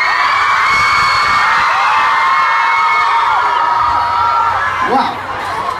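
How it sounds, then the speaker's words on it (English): Loud concert crowd at a show in New York City cheering and screaming continuously, a dense wall of shouts and whoops that eases slightly near the end. "what a terrific crowd"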